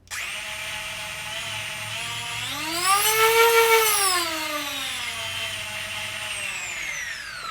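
A Nerf flywheel blaster with adjustable motor speed revs up with a high, whining electric motor hum that swells louder and rises in pitch midway, then eases back down to a steady spin, close and alone.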